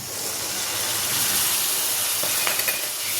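Tomato added to browned onion and stirred as it fries, a dense steady hissing sizzle with a couple of faint clinks toward the end.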